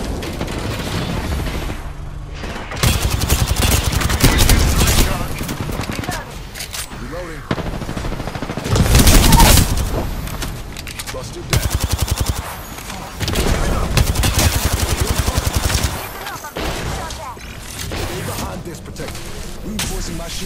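Dense automatic gunfire and bursts of shots from the Apex Legends video game crackle loudly in waves, with booms mixed in and voices talking over the fighting.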